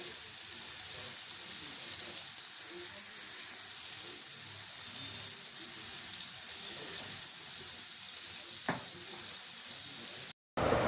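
Tandoori chicken frying in a pan over a flame, a dense continuous close sizzle with a sharp tap near the end, alone without talk.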